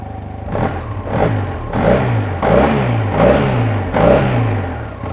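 A SYM Maxsym TL500 two-cylinder scooter engine fires up and idles close by, with a steady, loud mechanical churn that pulses in even surges every half second or so.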